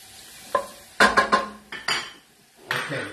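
Garlic, onion and shallot cook in a pan, heard as a faint sizzle broken by several sharp metallic clanks and scrapes of a utensil against the pan, close and uneven, with no talking.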